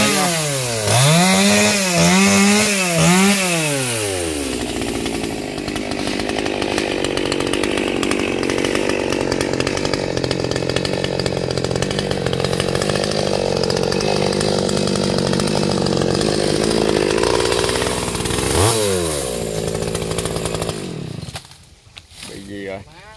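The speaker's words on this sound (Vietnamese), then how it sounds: "Đó, máy cưa đó là máy cưa G450 nha." A G450 chainsaw cutting a huge xà cừ tree trunk near a market revs up and down, then settles into a long loud sustained cut before dropping off at the end.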